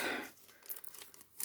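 Plastic craft supply pack being cut and torn open, a faint crinkling and tearing rustle with a few crisp snips, close by and without talk.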